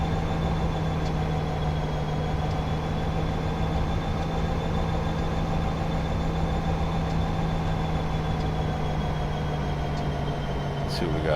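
Freight cars roll past a BNSF SD75 locomotive heading out to Needles in Train Simulator 2016, making a steady, continuous rumble with a low, sustained mechanical hum that stays even throughout.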